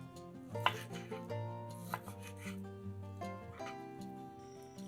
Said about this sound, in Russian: 300 грамм мяса нарезаем сначала на пластинки поперек волокон, а затем брусочками.